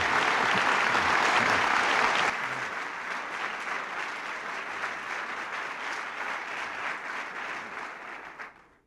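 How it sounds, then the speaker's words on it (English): Steady audience applause fills the room, dense and even, louder for the first couple of seconds before settling and then fading out at the end. "I think George and I should be applauding you"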